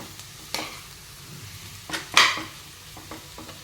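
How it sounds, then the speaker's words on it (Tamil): Potato pieces fry in a pan with a soft continuous sizzle and a few scraping stirs and clinks of the utensil, one louder scrape near the middle, close up and without talking. "இந்த உருளைக்கிழங்கு போட்டு நல்லா கலரிக்கலாங்க"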